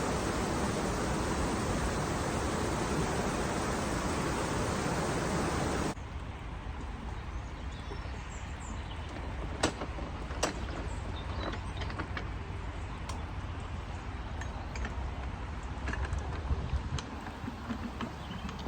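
Water rushes through an opened canal lock gate paddle in a loud, steady broadband roar. After about six seconds it drops to a quieter wash with scattered clicks and knocks.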